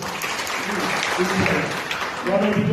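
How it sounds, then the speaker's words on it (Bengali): An audience breaks into sustained clapping at a sales celebration gathering, the applause rising and falling over a few seconds, with voices talking over it. "এই জন্য আমরা খুশিটা একটা হাততালি দিতে পারি"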